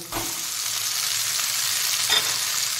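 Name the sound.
boiled Top Ramen noodles added to pan, stir frying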